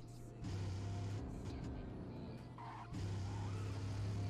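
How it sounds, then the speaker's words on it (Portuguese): A car engine in a modded GTA San Andreas video game drones at a steady low pitch with revving swells and a brief squeal, fairly close, and no voices are heard. "Não é o mesmo barulho dos carros do GTA."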